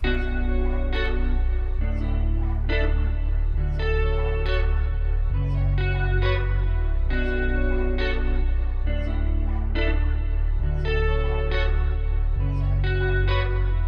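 A smooth electronic beat melody built in FL Studio plays with chorus, echo and light distortion, layered synth notes changing in an even rhythm over a steady low end, with no voices.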